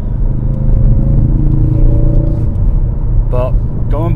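A Ford Focus RS engine drones steadily in the cabin while driving, a low sustained rumble with a faint rising tone, and someone talks briefly near the end.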